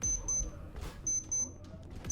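Countdown timer in the Roblox shooter Arsenal beeps in short high-pitched pairs, two quick bursts then another two, over faint game background and low rumble.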